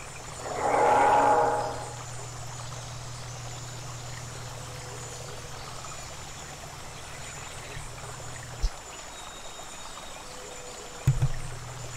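A small waterfall in The Isle survival game gives a constant soft rushing, trickling flow, with a brief louder swell near the start and a couple of faint clicks later.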